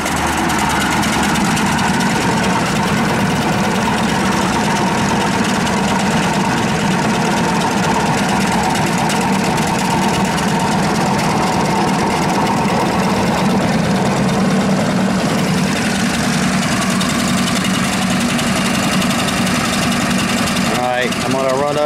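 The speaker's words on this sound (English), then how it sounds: "Gotta get that clutch off. I'm at idle. Slowing her down, boys." A vehicle engine idling with the clutch disengaged, heard as a loud, steady low rumble that runs the whole length with faint rattling vibration. A person talks over it.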